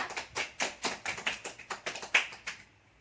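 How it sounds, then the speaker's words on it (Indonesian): A few students in a classroom clap for a classmate, giving about a dozen distinct, fairly quiet claps in a quick, slightly uneven rhythm that fades out at the end. "kita beri aplaus untuk Tasya"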